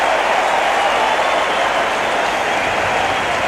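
A cricket crowd applauding the fall of a wicket at an Australia versus Pakistan match in 1989-90, with steady dense clapping and roar from a large stadium audience throughout, loud and unbroken.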